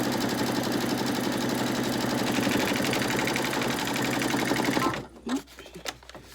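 Machine embroidery of a lace zipper pouch: a steady, loud, rapid mechanical stitching chatter runs for about five seconds, then stops abruptly, leaving faint handling noises.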